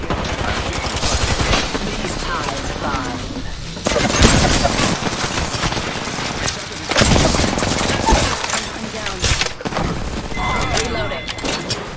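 Apex Legends gunfire with grenade blasts, dense bursts of shots and booms running through the whole stretch, loud and close, with game voice lines spoken over the action.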